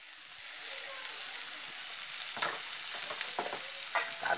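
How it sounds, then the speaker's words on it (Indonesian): Cassava leaves sizzle steadily as they are stir-fried in a hot pan, with clattering scrapes of a utensil stirring them breaking in over the last two seconds. "ini sudah wangi, sekarang kita masukkan daun singkongnya"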